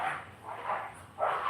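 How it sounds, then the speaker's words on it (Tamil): Several dogs scuffle and bark in repeated bursts, fairly loud and close, with the outbursts coming in a rough rhythm and no talking. "நாய் 2 மல்லு கட்டும் போலங்க, 2 3 மல்லு கட்டுது."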